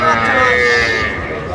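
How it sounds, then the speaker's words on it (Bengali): Young Sahiwal bull calves at a crowded cattle market mooing loudly and steadily for over a second, with background chatter from buyers and sellers. "ষাঁড় বাচ্চা, শাহিওয়াল ষাঁড় বাচ্চা"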